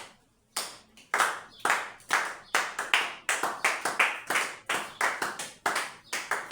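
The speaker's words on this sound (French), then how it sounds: "C'est pour ça que nous allons acclamer pour le Seigneur." A church congregation at an evangelical assembly in Brazzaville claps in uneven bursts, sharp hand claps and short rounds of applause rising and fading with pauses between, close and lively, no clear speech.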